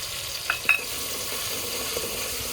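Curry leaves, chillies and crushed garlic hit hot spattering oil in a pan while cooking Rajasthani dal, giving a steady sizzle with a couple of sharp pops near the start.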